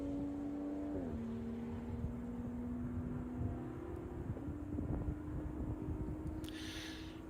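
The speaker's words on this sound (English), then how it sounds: "Little drift there from Kane. Getting on that throttle aggressively." A race car during a Watkins Glen endurance race accelerates hard out of a drift, its engine droning steadily with a rising pitch, heard at a moderate distance under broadcast ambience.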